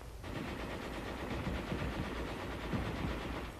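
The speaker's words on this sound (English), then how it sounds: "the section leader has the other gun fire faster to cover the target" Heavy machine guns firing in a 1944 infantry attack, a dense continuous rattle of rapid shots, loud and steady for the whole stretch.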